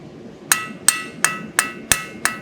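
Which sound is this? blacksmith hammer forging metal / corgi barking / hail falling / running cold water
blacksmith hammer forging metal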